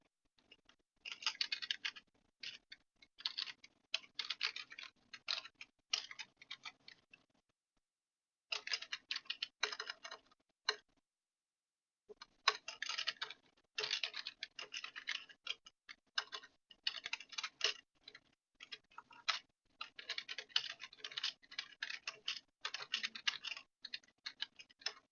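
Fast clicky typing of Java code on a computer keyboard, close and dry, in irregular runs of keystrokes separated by short silent pauses.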